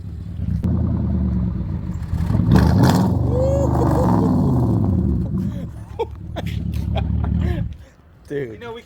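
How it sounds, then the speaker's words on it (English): A Lexus IS 500 engine idles with a deep rumble and then revs up and back down a couple of times, loud and close, with people talking nearby. "give me a couple baby revs"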